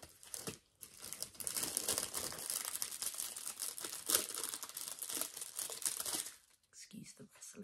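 Continuous crinkling and rustling of plastic packaging close by during a sewing-supplies unboxing for several seconds, loud and busy, then stopping, with faint whispery talk near the end.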